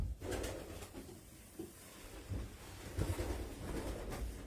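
Racing pigeons coo softly and repeatedly in a loft, low murmuring calls with light wind noise over the microphone and no talking.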